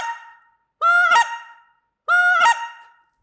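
Lesser-goose call sounding a slow double cluck: two separate honking notes about a second apart, each a high rising cry that breaks sharply into a second tone, loud and close with no talk.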